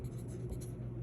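Pen scratching across paper while a check is filled out by hand, a soft steady scribble with brief strokes, close and quiet, with no talking.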